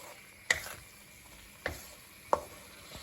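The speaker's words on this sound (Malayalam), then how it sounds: "ചൂടാറിയിരിക്കണ ചോറ് നമ്മൾ നന്നായിട്ടൊന്ന് മിക്സ് ചെയ്യണം അത് പൊടിഞ്ഞു പോകാതെ മിക്സ് ചെയ്യണം" Cooked rice is stirred in a pan for tomato rice, a few sparse spoon scrapes and knocks standing out against a faint background sizzle, quiet and close.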